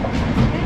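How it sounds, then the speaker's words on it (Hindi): Intercity Express passenger train passing close by on the Lucknow to Pathankot route, a loud, dense rumble of rolling wheels and carriages. "ये ट्रेन है हमारे सामने से जो जा रही है"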